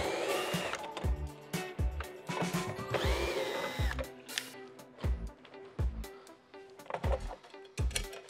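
A power drill undoes screws during a retrofit kit installation, with short whirring bursts broken by clicks and thumps, rising and stopping several times at moderate loudness.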